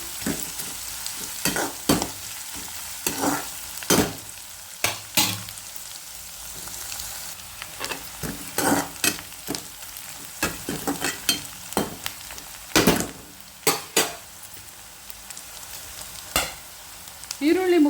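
Onions fry in oil in a pan for fenugreek leaf rice, a constant sizzle with frequent loud spatula scrapes and knocks against the pan.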